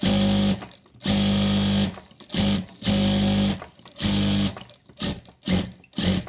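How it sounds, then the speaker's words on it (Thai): A sewing machine stitches fabric, with a close, loud motor whirring in repeated bursts: several long runs, then shorter quick spurts, separated by brief pauses. "ตอนนี้จะมาเย็บให้ดู ว่าวิธีเย็บยังไงที่จะไม่ให้ผ้ามันย่นนะคะ"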